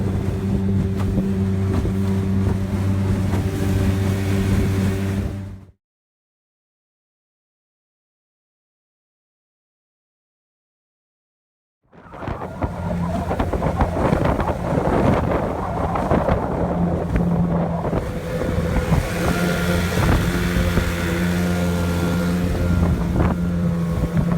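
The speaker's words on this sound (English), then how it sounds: "It's not bad for this little boat." The motor of a small Regal Beagle boat on a lake drones steadily at about 21 mph with wind buffeting, drops to silence for several seconds, then resumes louder with rushing wind.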